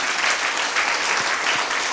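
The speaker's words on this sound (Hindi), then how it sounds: "तालियां बजा के प्रभु का धन्यवाद कीजिए" Dense, steady applause from a large church congregation fills the whole stretch, loud and continuous with no voices on top.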